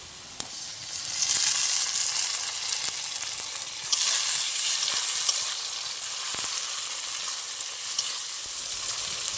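Chopped onion, garlic, green chili and freshly added tomato fry together in hot oil for palong paneer, giving a continuous loud sizzle broken by occasional stirring scrapes and sharp clicks of a spatula against the pan.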